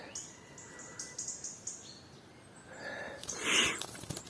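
Songbirds sing nearby, with repeated short high chirps and trills in the first half, then a brief louder burst of calls and a rustle. No one speaks.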